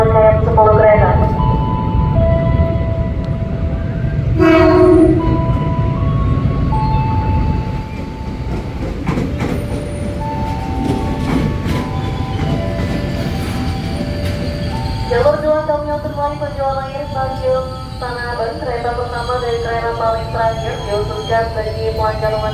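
A ten-car KRL Commuter Line train rumbles into Kebayoran station, Jakarta, its wheels squealing with long high-pitched tones as it slows, over a loud steady rolling roar.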